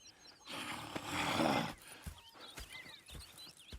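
A horse in the video game Red Dead Redemption snorts and neighs close by, followed by a few soft hoof thuds and shuffling movement.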